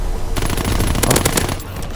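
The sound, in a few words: rapid-firing gun in video game Call of Duty WW2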